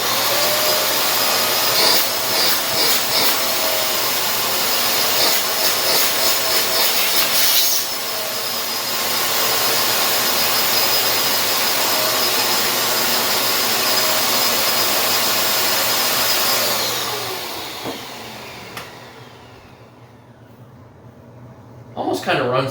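A Shark MessMaster handheld vacuum cleaner with a 6.5 amp motor whirs loudly and steadily for about seventeen seconds, then is switched off and winds down, leaving near silence before a brief clatter at the end.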